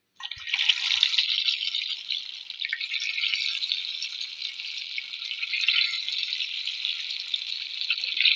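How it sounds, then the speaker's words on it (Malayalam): Unniyappam batter poured into hot oil in an appam pan sizzles with a steady, bright crackling hiss that starts abruptly and continues evenly throughout. "നമ്മുടെ എണ്ണ ചൂടായിട്ടുണ്ട് ഒഴിച്ചു കൊടുക്കാം"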